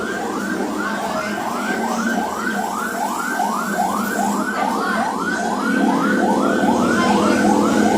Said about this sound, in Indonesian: Ambulans lagi tuh.